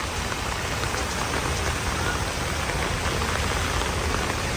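Steady rain falls in Malta, a dense, even hiss of drops spread across the whole span with no pauses and no voices.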